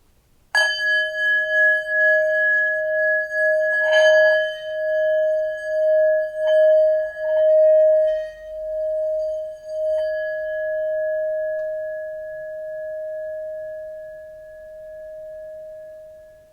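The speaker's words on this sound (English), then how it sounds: "So you can listen to my singing bowl." A singing bowl rings out with a clear, pure tone after a few soft strikes, its hum pulsing gently and slowly fading over a long sustain.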